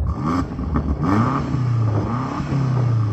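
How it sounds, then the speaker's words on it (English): A BMW M8 engine revs in a few quick rising and falling blips, throaty and fairly close, with short gaps between bursts. "I'm going to start off by revving up this M8"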